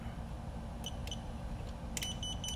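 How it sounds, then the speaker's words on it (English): Short electronic beeps from the beeper on an RCharlance FuryBee Q95 FPV drone chirp faintly in a few quick bursts over a steady low background hum. "And then flip your beeper."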